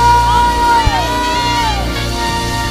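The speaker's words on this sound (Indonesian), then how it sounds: "Mari kita beri tepuk tangan yang terbaik bagi Tuhan" A church congregation cheers and whoops loudly in praise, with sustained shouts and voices over a steady musical drone, one brief sharp knock standing out partway through.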